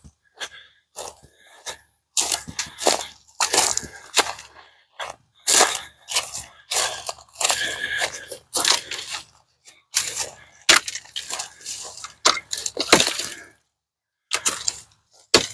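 A WORK TUFF GEAR APEX chopper hacking branches in irregular bursts of sharp, crunching chops and snaps, close by, with short pauses between strikes.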